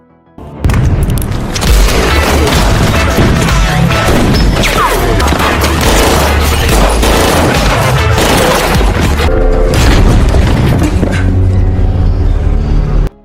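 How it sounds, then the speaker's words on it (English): A violent film firefight between two gangs: dense, loud, continuous gunfire and booming crashes in a thick unbroken wall of sound for about thirteen seconds. "a violent firefight ensued between Alphonse's men and the Jamaicans."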